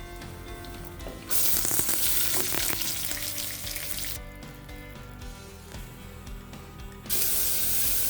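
Finely chopped small onions dropped into hot oil with spices for a sprouted spinach fry, giving bursts of loud crackling sizzle that swell and ease, with some stirring clatter and no talking.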